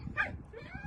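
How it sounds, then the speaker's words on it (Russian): Dogs give a short, quiet yip and whimper, close by in a snowy yard, in one brief burst over soft background noise. "Вот, собачки"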